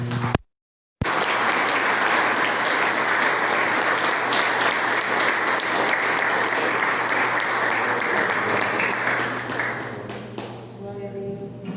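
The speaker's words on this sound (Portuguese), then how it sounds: "Que as palmas louvam o nome do Senhor" A church congregation claps in praise during a worship service, dense steady applause running for about ten seconds after a brief dropout, then thinning and fading toward the end.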